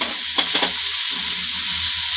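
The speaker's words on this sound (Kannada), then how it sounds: "ಇದನ್ನೆಲ್ಲ ಚೆನ್ನಾಗಿ ಮಿಕ್ಸ್ ಮಾಡ್ಕೋಬೇಕು." Sprouted field beans and grated coconut stirred together in a pan for a Kannada-style palya, a soft scraping stir with two brief louder strokes over a low steady sizzle, no voices.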